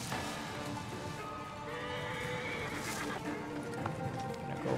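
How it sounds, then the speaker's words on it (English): Horses gallop and neigh in the Assassin's Creed Origins video game, a continuous dense rumble of hooves with whinnies on top and no talking. "Horses are running away."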